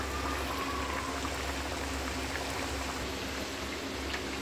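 Potato kachoris fry in oil over a medium flame, giving a continuous, even bubbling hiss that stays close and steady with no voices.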